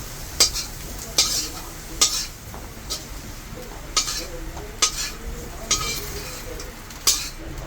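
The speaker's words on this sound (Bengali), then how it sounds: "ফোড়নে দিলাম গোটা জিরা, এলাচ, লঙ্কা, দারচিনি, তেজপাতা, আদা বাটা, জিরা বাটা দিয়ে দিলাম।" Whole cumin, cardamom, chilli, cinnamon and bay leaf tempering in hot oil with ginger and cumin paste, a low sizzle under regular sharp scrapes and clinks of a spatula against the pan, about one stir per second.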